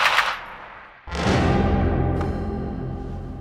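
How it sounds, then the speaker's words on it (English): A World War II machine gun firing, a sharp report followed by a sustained, loud rattling burst that holds steady, heard alone without talk. "what you want a machine gun to do is put a wide arc of fire out when you're firing bursts"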